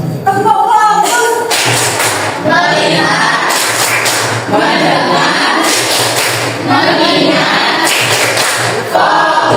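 A classroom plays the tepuk fokus clapping game, with bursts of group clapping in a rhythmic pattern that repeats several times, mixed with voices chanting together.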